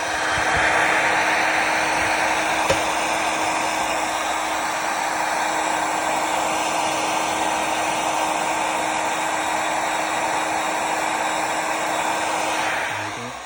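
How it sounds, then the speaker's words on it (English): Heat gun blasting a steady loud whooshing hum while heating an M Performance decal on a BMW 4 Series near the tyre area, continuous and close with no talk. "we're going to put a heck of a lot of heat in here"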